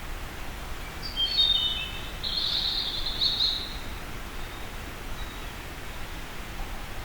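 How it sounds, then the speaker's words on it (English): Blackbirds sing at dusk in Harwood Forest, a few faint, distant chirping phrases rising briefly over a steady hiss of woodland ambience. "I can hear the blackbirds singing."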